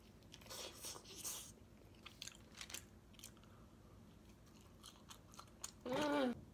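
Quiet bites and chewing of pizza dipped in garlic sauce, soft crunches and mouth sounds spaced irregularly, close to the microphone, with a brief louder voice near the end.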